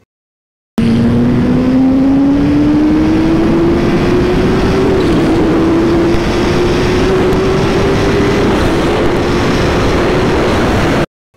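A Kawasaki Ninja H2 motorcycle accelerates hard in third gear at 80% throttle toward about 178 mph. The engine roars loud and steady, its pitch climbing smoothly for about ten seconds under heavy wind rush.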